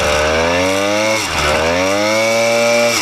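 An 80cc motorized bike engine running close and loud with a buzzy, rattling drone from something loose; the revs dip briefly mid-way and then climb steadily again.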